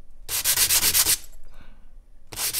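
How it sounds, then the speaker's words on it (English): Sandpaper rubbing over a wooden end graft on an acoustic guitar body under construction, near inlaid pearl; two loud bursts of steady back-and-forth sanding strokes separated by a quieter pause. "So we're just going to sand it nice and smooth to flush."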